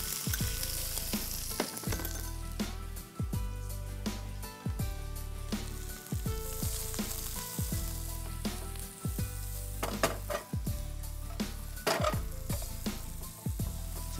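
Chopped small onions (shallots) frying in a pan, an ongoing sizzle broken by repeated rhythmic low thumps and scraping from stirring, with music-like tones in the background.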